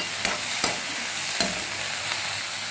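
Coriander leaves sauté in a pan for coconut chutney, giving a loud steady sizzle broken by a few sharp stirring taps, with no talking.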